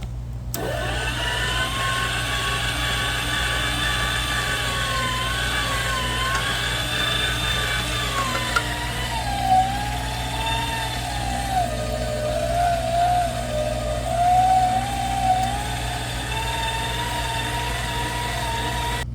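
An electric meat grinder set on low drones loudly and continuously while grinding lean venison with pork fat, its motor whine wavering in pitch as meat feeds through, with a steady low hum underneath and no talking.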